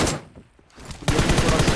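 Automatic M416 rifle fire in PUBG Mobile, a loud rapid burst of shots that starts near the end after a brief quieter gap, following an earlier stretch of gunfire.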